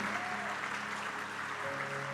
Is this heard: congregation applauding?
yes